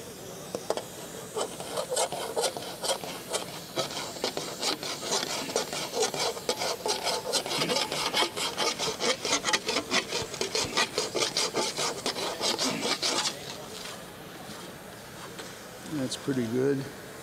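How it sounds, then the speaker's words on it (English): A hand file being drawn back and forth over formed sheet metal to smooth low spots, making a close, rhythmic rasping that runs for several seconds and then stops, with someone speaking near the end. "you can peck and file"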